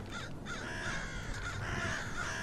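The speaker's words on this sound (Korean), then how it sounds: "갈매기 갈매기 앉았다가" Gull calls ring out during a shipboard squid-jigging haul on a rope line, a few harsh cries rising over steady background noise, fairly close and continuous.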